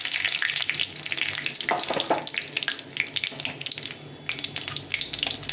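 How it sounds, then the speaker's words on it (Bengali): Bay leaf, dried red chilli and cumin seeds frying in hot oil as a tempering for a jackfruit curry, giving a dense, close crackling sizzle with faint stirring throughout. "তেলে আমি ফোড়ন দিয়ে দেবো।"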